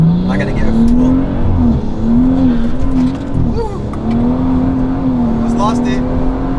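A car accelerates hard from first gear, its engine note climbing steadily through repeated pulls, loud and close from inside the cabin, with someone talking over it.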